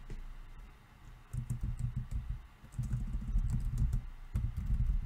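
Typing on a computer keyboard: bursts of quick, close key clicks with brief pauses between runs, heard alone with no talk.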